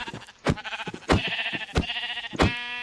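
Sheep in the Minecraft modpack Enigmatica 2 Expert bleat repeatedly, four or five short wavering calls spaced about half a second apart, close and fairly loud with no other sound.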